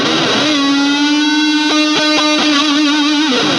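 An electric guitar run through delay, chorus and reverb pedals with an Electro Harmonix Silencer, a sustained distorted note with a few picked notes and echoing repeats, loud and close, no talking.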